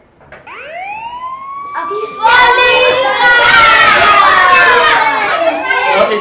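A rising police car siren wail swells up, then excited children shout and chatter loudly over it as the siren keeps going.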